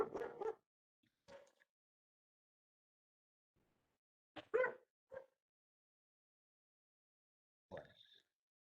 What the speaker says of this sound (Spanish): tengo aquí un perro molesto